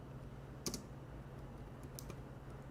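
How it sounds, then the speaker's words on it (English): A computer keyboard gives a few sparse, faint clicks, with one sharper keystroke early and a couple more near the end, over a quiet room hum. "what I'm typing here?"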